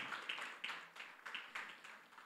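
A church congregation clapping during a sermon, rhythmic claps repeating at a steady pace, fairly faint and distant in a reverberant hall.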